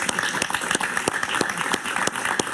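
A studio audience at a talk show applauds a guest journalist's entrance with dense, steady clapping, loud and sustained from start to finish, with some voices mixed into the crowd.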